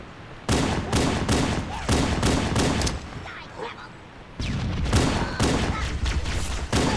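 Automatic-weapon fire in Halo: Combat Evolved, in long, loud, rapid bursts of shots that nearly fill the clip, broken by a short lull before the firing resumes.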